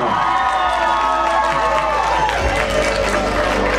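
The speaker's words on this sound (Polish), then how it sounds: "Wielkie brawa" A crowd applauding a contestant at a student-festival Miss pageant, loud sustained clapping with cheers and shouts, while music plays underneath.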